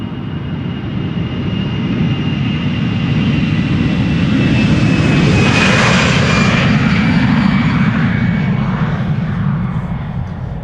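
An Atlas Air Boeing 747-400 freighter, 23 years old, departs Amsterdam Schiphol up close, its jet engines roaring loud and swelling to a peak midway with a whining tone before easing off slightly.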